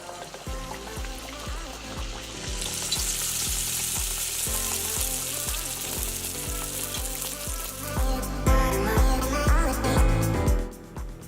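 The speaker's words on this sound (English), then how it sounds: "then you'll gently lay it into the oil" Vetkoek dough frying in hot oil, a steady loud crackling sizzle with rapid popping bubbles that swells louder near the end, close up and with no one talking.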